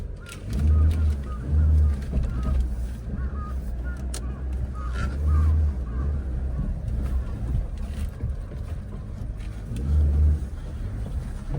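A car is moved at low speed, its engine a low rumble that swells in several deep surges over steady background noise.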